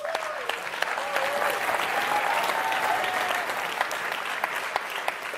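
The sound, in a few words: audience applause and cheering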